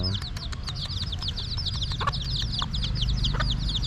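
Chickens clucking in a busy group somewhere in Ayutthaya, Thailand, with many short, repeated calls overlapping continuously over a steady low background rumble.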